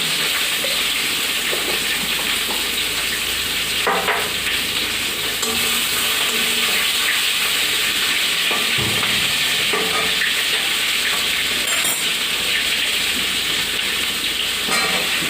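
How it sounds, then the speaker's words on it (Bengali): Green chillies and spices tempered in hot oil give a loud, steady sizzling hiss that fills the whole stretch, with a few brief clanks and taps of a utensil partway through. "একটু ফোড়ন দিয়ে দিলাম"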